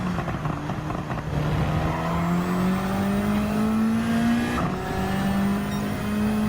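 Race car engines drone in Gran Turismo 7 at Suzuka Circuit during a Toyota Gazoo Racing GT Cup round, one car's pitch climbing steadily through a gear as others roar alongside, loud and continuous without talk.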